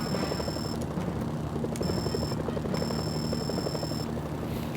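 A steady helicopter rotor thrum with a rhythmic low chop and engine whine continues throughout, interrupted by brief high electronic tones, in the game Mercenaries: Playground of Destruction.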